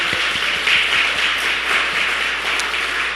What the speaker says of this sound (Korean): 우리 강사 목사님께 감사하다는 박수 하나님께 영광 돌리겠습니다.